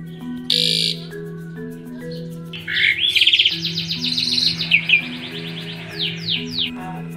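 Javan pied starling (jalak suren) in a home yard, giving a run of loud, rapid chattering and whistled alarm calls in quick bursts, over a steady low electronic hum.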